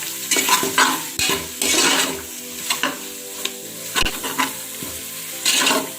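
A spoon scrapes and stirs sizzling masala with chilli powder in a pressure cooker pan for prawn biryani, repeated scraping strokes and metallic clinks over a steady close frying hiss.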